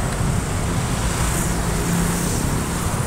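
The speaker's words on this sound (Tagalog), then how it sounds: "Kumaharurot yung mga sasakyan dito banda." Vehicles speeding past on a busy road near a mall, forming a dense, steady roar of traffic with engine and tyre noise that stays loud and close throughout, with no talking.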